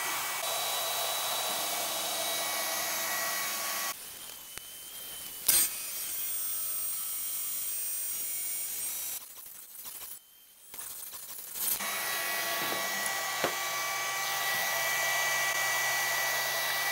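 A Two Trees TS2 10W diode laser cuts through 16.5 mm wood with a steady airy hiss, likely the air-assist fan, interrupted by a few quiet gaps and brief clicks before the hiss resumes.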